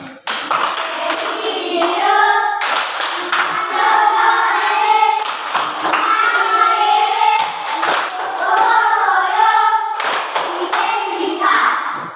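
A group claps in a steady rhythmic pattern, pausing briefly between bursts, with a voice speaking over the clapping.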